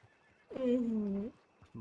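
A horse in Red Dead Redemption II lets out a single clear neigh lasting under a second, set against quiet background noise with faint hoof sounds.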